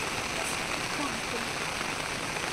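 Monsoon rain falling during a visit to Bhagawati Temple, a steady, even wash of patter that fills the whole stretch.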